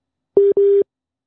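Two short beeps of a telephone busy signal after a dropped call, each a steady tone, clear and close, with silence after them.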